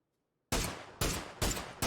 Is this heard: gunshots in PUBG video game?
yes